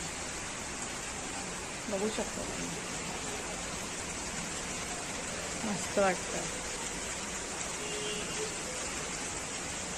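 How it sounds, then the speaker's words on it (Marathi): Steady rain hisses outside as a constant wash of noise, with someone speaking briefly over it. "आज खूप मस्त असा पाऊस पडतो बाहेर"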